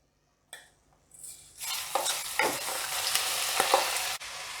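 Washed, drained Gobindobhog rice pours into hot spices in a pan, setting off a sudden rising sizzle, then spoon scrapes as it is stirred, close and steady with no voices.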